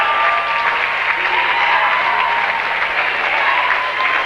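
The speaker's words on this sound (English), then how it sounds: "Austin Biscay now will get his round of applause." Home crowd at a boys' varsity high school basketball game applauding a player, dense sustained clapping in a gym, loud and even throughout with no talk.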